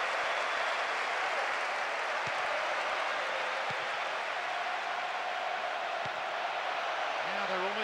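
A large soccer crowd at a Louisville versus Michigan college match applauds and roars in a steady, broad wash of cheering, with a commentator speaking over it.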